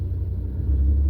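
Manual car engine revving in reverse gear as the clutch is eased out, a steady low rumble that swells slightly toward the end, close by and with no talking.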